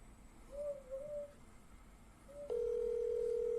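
A telephone line gives a wavering tone, then a loud steady dial tone starts abruptly and holds, clear and close with no talk over it.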